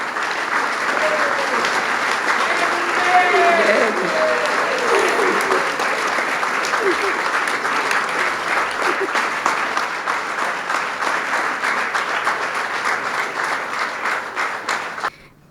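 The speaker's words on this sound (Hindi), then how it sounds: "आप लोग खड़े होकर एक बार ताली बजाएं" Audience at a Guru Purnima celebration standing and applauding, a loud, sustained burst of many hands clapping with a few voices mixed in, thinning at the very end before stopping abruptly.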